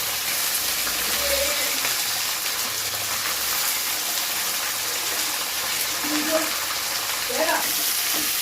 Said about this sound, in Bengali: এই সবজিগুলো একটু ভাজা হবে